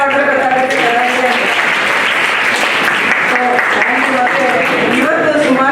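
An audience applauds at a trust's event honouring local talent, a dense, loud, continuous wash of clapping with a voice speaking over it.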